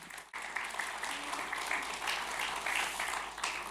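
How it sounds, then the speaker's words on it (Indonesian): A church congregation breaks into sustained applause after a brief pause, the clapping dense and steady throughout. "Kita beri tepuk tangan dulu"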